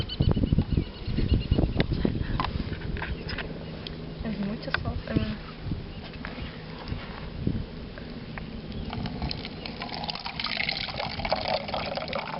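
Water is poured onto soil covered with sugarcane bagasse in a bottle erosion test, a steady trickling, gurgling flow heard close up under ongoing talk.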